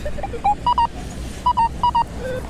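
Short high-pitched electronic beeps from a metal detector sound in quick pairs and clusters over faint outdoor background noise.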